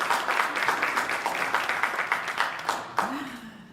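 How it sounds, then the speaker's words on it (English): Conference audience applauding at a pain summit welcome session, a moderate burst of clapping that thins out over a few seconds before a voice begins speaking near the end. "let's give ourselves a round of applause"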